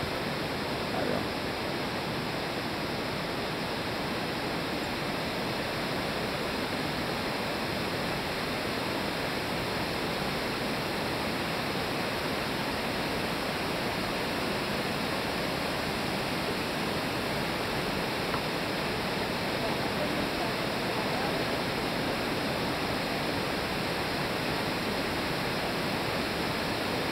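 A river, the same one that feeds a nearby waterfall, flows through the inside of a cave, giving a steady, dense rushing roar that stays even throughout with no voices.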